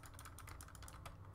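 A computer keyboard clatters in quick, irregular presses during play of the game 6AM, a close, fairly quiet run of clicks with no talking.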